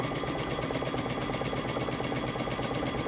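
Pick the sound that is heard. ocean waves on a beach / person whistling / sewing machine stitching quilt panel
sewing machine stitching quilt panel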